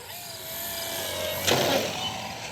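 Electric motor of an Avios Grand Tundra 1700mm RC plane in flight, a steady high whine with a smooth tone rising slightly midway, fairly close and continuous.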